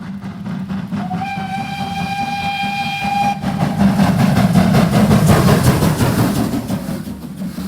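A train rolls past with a steady rumble while a whistle sounds one long tone for about two seconds, then the clatter of wagons on the rails swells louder and continues alone.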